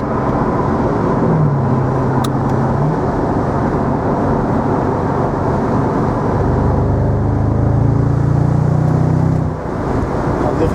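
A 2003 Mercedes SL55 AMG V8 drones loudly and continuously from inside the car while driven in manual paddle-shift mode, its note swelling and rising for a few seconds toward the end before easing off.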